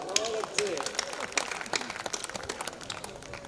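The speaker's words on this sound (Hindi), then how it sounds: "2-3 लोग ताली बजा रहे हैं" A few people in the audience at a Hindi kavi sammelan poetry recital clap in a sparse, uneven patter that is fairly faint, with voices and crowd murmur mixed in.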